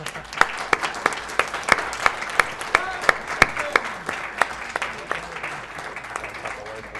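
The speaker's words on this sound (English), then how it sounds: "perhaps a round of applause from the handsome people on and around the couch" A steady round of applause from a crowd at a speedrunning marathon event, many hands clapping continuously with scattered sharper claps standing out.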